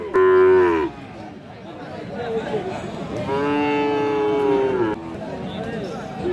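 Cattle, Friesian and crossbred bull calves, moo at the Aftabganj weekly livestock market in Dinajpur, a loud nearby low call followed by a longer drawn-out moo over a murmuring crowd.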